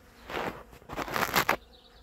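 Bees buzz around a flowering Katalin cherry tree on a spring day, several close passes swelling and fading in quick succession over about two seconds before dropping away to quiet.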